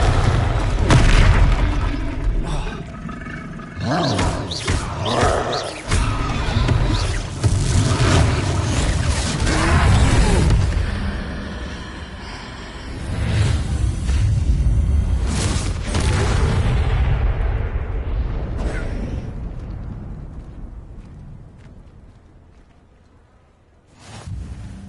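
A Confringo blasting spell in Hogwarts Legacy, fired during a troll fight, sets off repeated booming explosions and bursts, loud and dense for most of the stretch before fading near the end.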